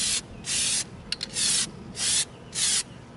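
Plasti Dip coating is sprayed onto a prop in five short, even bursts of hiss with brief pauses between them, close and moderately loud.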